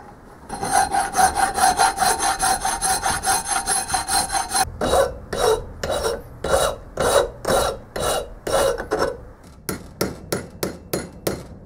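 Steady rhythmic rasping of a hand file on metal, a compound swivel base, first in rapid continuous strokes, then slower separate back-and-forth strokes with short pauses.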